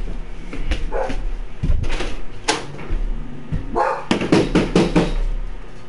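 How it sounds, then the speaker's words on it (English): A dog barks in several bursts, some single and some in quick clusters, fairly close and loud, with brief quieter gaps between volleys and a low steady background hum. "Still barking."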